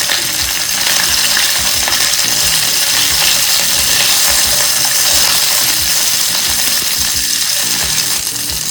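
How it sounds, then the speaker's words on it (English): Okra sautéing in a pan with dried chilies and cumin seeds, a dense, steady sizzle with a continuous crackling hiss, loud and close, without pause. "Now add in the okra. Just saute this for a few minutes."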